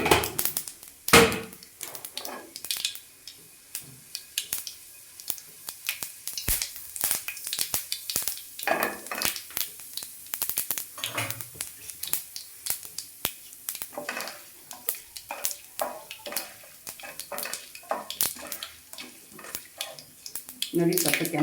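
Chana dal and urad dal fry in hot oil for a vegetable palya, a steady crackling sizzle with scattered pops and spoon clinks against the pan, with a voice talking over it.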